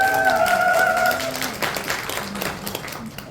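Applause from a seminar audience after a lecturer's introduction, a steady patter of clapping that gradually thins out, with a faint tonal hum early on.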